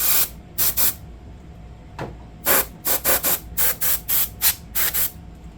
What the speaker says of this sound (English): I think I'm probably going to take this can of air and blow some of the dust out with these expansion slots.